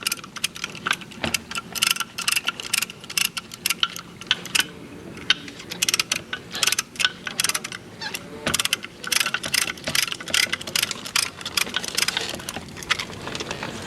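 A brake caliper piston tool on a 2022 BMW X5 40i is wound back by hand, giving rapid close ratcheting clicks in uneven bursts during front pad and rotor work.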